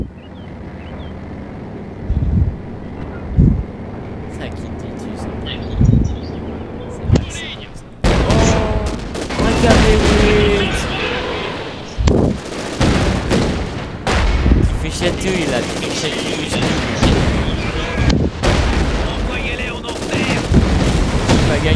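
An MG-42 machine gun turret and a wider battle in Company of Heroes 2 deliver loud, dense bursts of gunfire and booms that go on without pause, with game voice lines heard over the fighting.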